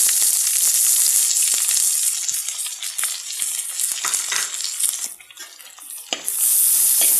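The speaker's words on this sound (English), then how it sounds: "Now one big onion finely chopped goes in next." Finely chopped onion frying in a pan for a vegetable soup, a loud, steady close sizzle with crackling bursts and scraping stirs, dipping briefly near the end before surging again; no talking.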